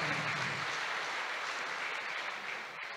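An audience claps steadily and densely throughout, a sustained wash of applause at an academic institution's capacity-building event, fading slightly near the end with no voices over it.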